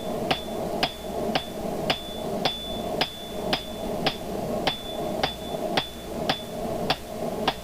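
Hand hammer blows striking thick hot steel plate at a forge while shaping a dragon door pull, about fourteen sharp metallic ringing strikes in a steady even rhythm, loud and close with a low background hum.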